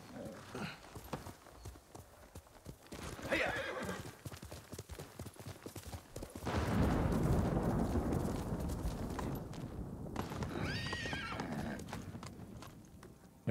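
A horse in the video game Ghost of Tsushima clip-clops over ground and whinnies loudly, with a louder rumbling stretch of hooves and movement in the middle and a second neigh near the end.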